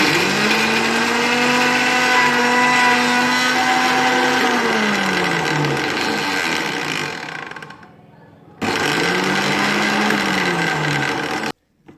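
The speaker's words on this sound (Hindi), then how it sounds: "अब मैं इसको मिक्सर स्टार्ट कर" Loud electric mixer grinder grinding peanuts, whirring at high speed, winding down, then starting again briefly before stopping abruptly.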